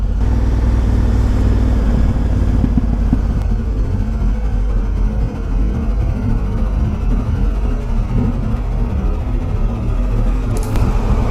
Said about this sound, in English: A little bit more traffic to go.